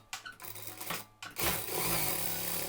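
A sewing machine stitches the side seams of a dress: short bursts of motor whir and needle clatter with pauses, then a loud continuous close-up run.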